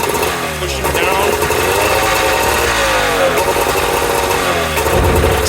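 A 2002 Arctic Cat Z370 snowmobile engine revs loudly and close with the throttle pushed down, its pitch sliding and surging steadily before easing off near the end.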